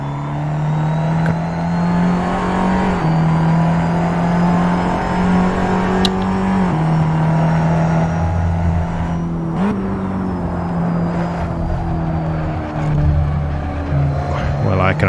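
Lotus saloon race car in Assetto Corsa, its engine droning loud and close, pitch climbing through the gears with sharp drops at each upshift, several shift cycles in a row, with a voice talking over it at times.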